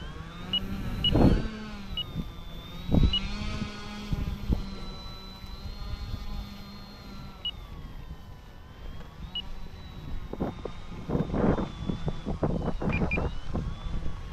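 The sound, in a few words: electric motor of Durafly Tundra RC model plane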